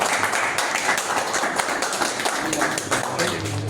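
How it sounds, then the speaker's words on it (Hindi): An audience at a home meeting in Ludhiana claps steadily in welcome, a dense, fairly even patter of hands at moderate volume with faint voices mixed in. "आप लोग के जोरदार तालियों के बीच मैं बुलाने जा रहा हूँ"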